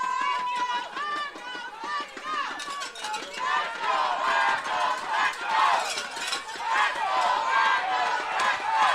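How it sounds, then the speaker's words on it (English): Crowd at a PeeWee Argos youth football provincial championship game rising into excited cheering and shouting, steady and loud throughout, building in the second half with a commentator talking over it. "Argos crowd getting excited here."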